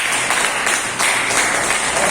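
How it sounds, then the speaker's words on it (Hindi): An audience at an office closing meeting claps steadily and loudly for a couple of seconds, a dense wash of hands with no pauses. "एक बार जोरदार तालियां चाहूंगा।"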